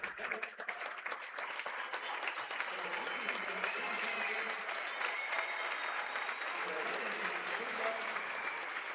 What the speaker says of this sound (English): Seniors Hayden Anderson and Nick Ibinger getting a standing ovation from the crowd here